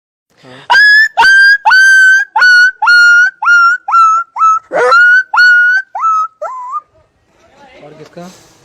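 A person imitates a small dog's barking, giving about a dozen sharp, high yips in a quick rhythm, loud and close, alone with no talk.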